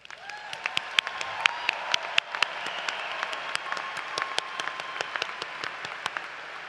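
Families and faculty at a law school commencement applaud the graduates, a steady wash of clapping with sharp individual claps standing out, moderately distant in a large hall.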